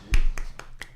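Four sharp, evenly spaced hand claps ring out close by, each one a crisp snap-like hit, the first loudest and the rest slightly softer, with no talking.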